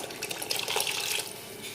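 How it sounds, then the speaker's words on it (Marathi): Unsalted water is poured over mutton in a curry pot, a soft, steady splashing pour lasting under two seconds, fairly quiet and without voices. "वरतून टाकू आपण हे अळणी पाणी"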